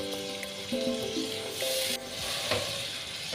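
Masala sautéing in a pan with fish, a steady sizzle broken by scraping and stirring clinks and a few louder bursts, with no voices.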